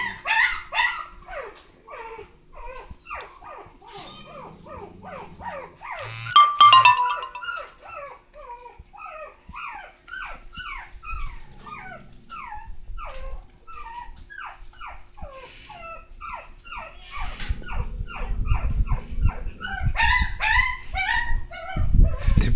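Rottweiler or Labrador puppies yip and bark in quick, high, continuous bursts close by in a home near the kitchen, with a louder rumble and scuffling toward the end.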